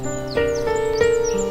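A small bird in its nest gives a series of harsh, cawing calls, loud and close, with several overlapping cries in quick succession.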